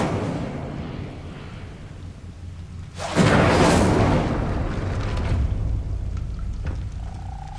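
The Incendio fire spell in Hogwarts Legacy: after quiet ambience, a sudden loud whooshing burst of flame with a rumbling boom, then a crackling, hissing tail that gradually settles back to a low background.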